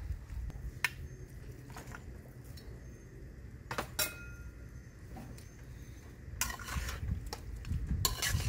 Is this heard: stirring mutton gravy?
yes